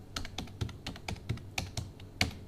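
Quick bursts of typing on a computer keyboard during payroll data entry: about a dozen crisp, close key clicks in an uneven rhythm, with a firmer keystroke near the end, and no voices.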